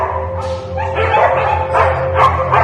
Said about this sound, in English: This poor dog is so scared.